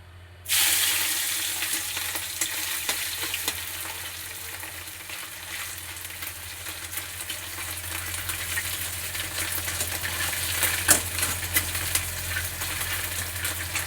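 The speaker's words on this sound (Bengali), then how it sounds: "এইবারে মৌরলা মাছটা তেলে দিয়ে ভাজবো।" Steady, loud sizzling of small mola carplet fish frying in hot oil, starting abruptly and continuing evenly with occasional pops and crackles.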